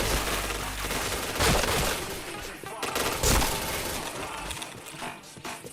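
Video game gunfire from a first-person shooter, with loud bursts of rapid shots and sharp single cracks over a dense, noisy mix of game effects, and faint talk in the background.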